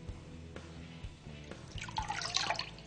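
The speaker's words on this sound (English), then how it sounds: "work it under the water for a few seconds just to remove any excess film" Part submerged in a water tank being worked by hand to remove excess film, soft sloshing and dripping with small splashes growing busier toward the end, fairly quiet and close.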